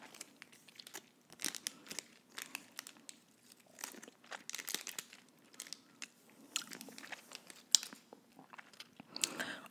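Skwinklote candy is eaten close to the mic, with bursts of crunchy biting and chewing mixed with crinkling of the wrapper in irregular clusters, intimate and fairly quiet.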